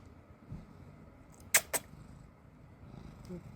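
A domestic cat purrs softly and steadily up close, a low rumble interrupted by two sharp clicks partway through.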